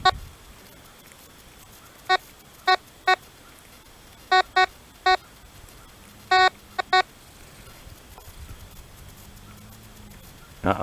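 A handheld metal detector sweeps a drained lake bed, giving short clusters of sharp electronic beeps in irregular groups of two and three, with quiet pauses between them.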